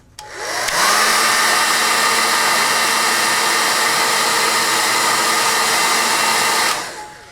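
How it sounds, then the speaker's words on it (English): A hair dryer blows loudly and steadily at close range for several seconds, starting up and then cutting off, with no voices. "when I dry it with a hairdryer"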